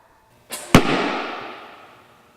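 A firework bursts at a stock-car speedway's Firecracker 50 event in West Plains, a loud sharp crack followed by a long, fading rumble and crackle, with the start of a second bang at the end.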